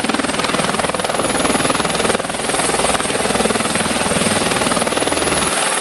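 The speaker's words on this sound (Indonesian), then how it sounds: "ada helikopter berwarna biru. Ini helikopter polisi." A blue police helicopter in an aircraft video game gives off a continuous, loud rotor and turbine drone with a rapid rhythmic chop and a high steady whine, unbroken for several seconds.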